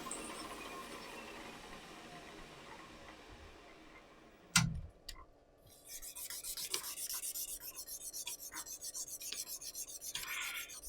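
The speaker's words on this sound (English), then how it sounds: "I shall then go at this one with the Micromesh, which is basically sandpaper but very, very high grit" Very high-grit Micromesh abrasive sheet rubbed over a resin pen blank in red and blue, a soft rhythmic rasping that builds after a sharp knock midway, steady close scratching strokes with no talk.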